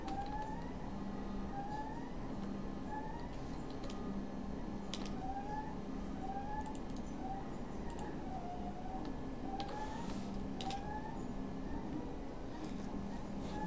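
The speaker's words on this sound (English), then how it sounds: "Probably hear the 3D printer in the background going to town." A 3D printer printing a tile runs steadily in the background, its stepper motors giving off repeated rising whines over a constant mechanical hum, with no talk.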